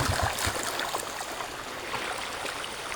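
Water running and splashing as people wash their feet, with a few sharp splashes at first and then a soft, steady flowing sound.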